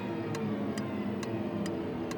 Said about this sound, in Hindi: ये टिक टिक टिक टिक आवाजें कहाँ से आ रही है?